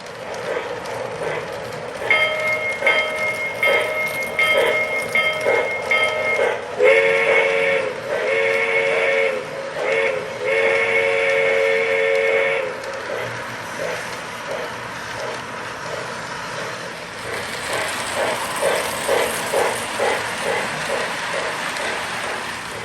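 A Lionel Walt Disney World 50th Anniversary model train set runs steadily with Walt Disney World Railroad sound effects, a steam whistle sounding in several bright blasts over continuous rolling rail noise.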